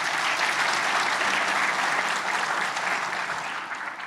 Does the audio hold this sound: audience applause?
yes